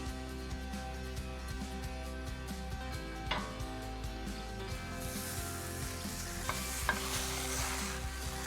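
Bombay potatoes sizzling and crisping in a hot pan over high heat, a steady dense frying hiss with occasional stirring scrapes and clinks, close and continuous with no talking.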